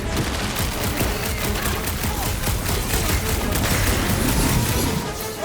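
Dense, sustained gunfire from weapons in the video game Guardians of the Galaxy, rapid overlapping shots and booms forming a loud, continuous barrage.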